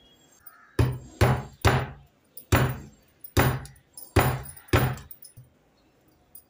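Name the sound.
cracking open a tender coconut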